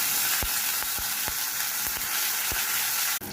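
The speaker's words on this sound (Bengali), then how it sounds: "ঘি গরম হয়ে গেলে কালো সর্ষে দিয়ে দিলাম, হিং দিয়ে দিলাম, কারি পাতা দিয়ে দিলাম, কাঁচা লঙ্কাটাও দিয়ে দিলাম" Mustard seeds, asafoetida, curry leaves and green chili sizzle loudly and continuously in hot ghee, with sharp spattering pops scattered through the crackle and a brief break near the end.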